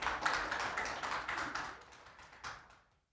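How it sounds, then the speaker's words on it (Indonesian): Audience applause at a school signing event in Jakarta, a brief burst of clapping from a crowd that builds, then thins out and fades after a couple of seconds. "boleh kasih tepuk tangan"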